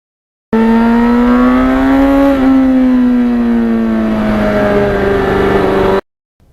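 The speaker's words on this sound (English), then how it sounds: "when you go through the gears on this bike, it's great" A 1991 Yamaha FZR 1000cc motorcycle engine revs loud and close, a sustained rising whine that drops briefly at a gear change and then climbs again before cutting off.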